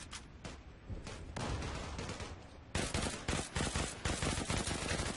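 Rapid bursts of video game gunfire crack loudly and continuously, with a short lull before a denser, harder volley of shots near the end.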